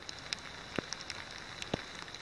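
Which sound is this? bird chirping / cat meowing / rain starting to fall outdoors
rain starting to fall outdoors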